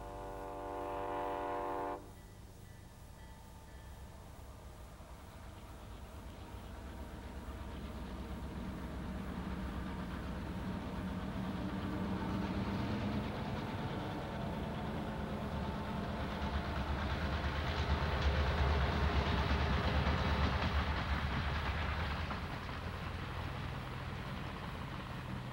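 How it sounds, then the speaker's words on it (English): Vintage 1950s Southern FP7 diesel locomotives run down the Shenandoah Valley: a horn blast opens, then a long swelling diesel roar with rail clatter that builds and fades, fairly distant. "it started, modestly enough, with a run down the Shenandoah Valley with vintage 50s Southern FP7 diesels"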